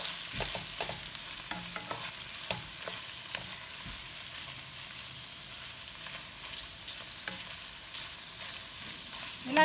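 Beef fries in a pan for ampalaya con carne as a utensil stirs it, a soft continuous sizzle broken by scattered scrapes and clicks, close and fairly quiet with no talking.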